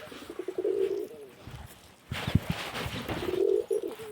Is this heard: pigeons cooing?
yes